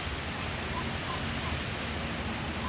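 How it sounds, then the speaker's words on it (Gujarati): Dense, even hiss of heavy rain pours down without pause, steady and close, at a Khodiyar temple. "અને વરસાદ ફૂલ આવે છે એકદમ"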